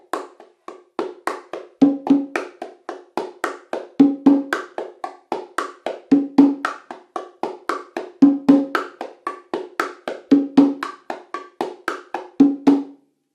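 Hand-played bongos tap out a steady martillo rhythm, with brisk repeating high strokes and an added deeper note on the lower bongo closing each bar, close and crisp with no talking.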